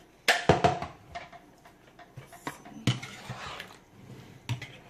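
A Tupperware pressure cooker that has just cooked pasta is opened with a burst of plastic clacks and knocks close by. Scattered lighter clatters and rustles follow.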